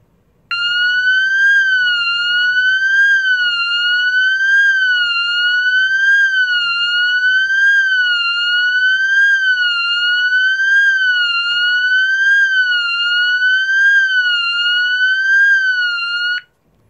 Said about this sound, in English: Now is the NFC 48-265 tone.